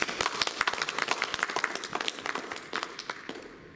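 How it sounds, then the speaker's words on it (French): Applause in a martial arts dojo for a student who has just passed his brown belt exam in aikido, a moderate round of individual claps from a small group, fairly close and tapering off near the end. "On peut l'applaudir."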